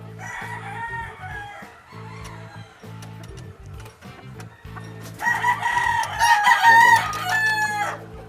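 A brood cock crows loudly nearby, rising to a strained peak, while hens cluck and murmur in a steady background.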